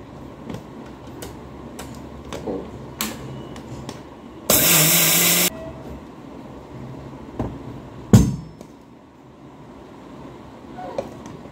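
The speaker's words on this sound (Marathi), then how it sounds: "आता इथे साखर घेतली आहे, ती आहे ना पिठी साखर करून घेते त्याची ग्राइंड मिक्सर मध्ये।" Mixer grinder blitzes sugar into powdered sugar for rava laddu, one loud whirring burst lasting about a second amid quieter kitchen clatter and knocks, with no talking.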